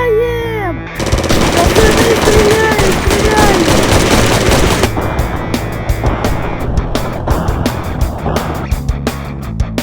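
Rapid bursts of video game gunfire crackle loudly and continuously, with explosions and vehicle rumble, in a zombie game, and a voice briefly calling out at the start.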